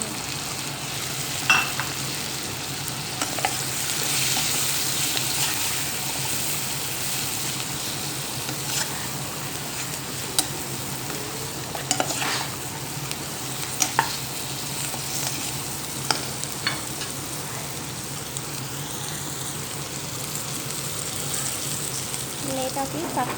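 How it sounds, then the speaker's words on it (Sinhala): Chicken pieces sizzling and frying in a pan for a chicken curry, a continuous hiss with occasional scrapes and clinks of a spoon stirring, close and steady, with faint talk over it. "දැන් අපි බැටක කුකුලා දාගන්නවා."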